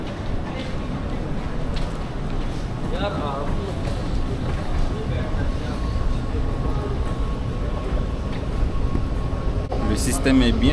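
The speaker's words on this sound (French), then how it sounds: "Le métro est là." Metro train running with a steady, continuous rumble and rolling noise from inside or beside the carriage, with faint voices and a brief squeal near the end.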